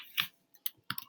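Quiet computer mouse clicks: one crisp click, then a few lighter taps and a tight double click near the end, close and isolated with no talk.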